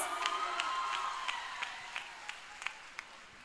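An outdoor crowd at a concert in Karadeniz Ereğli, marking the Republic's 100th year, claps in a steady rhythm with faint cheering. The sound is fairly distant and soft, with evenly spaced claps running throughout.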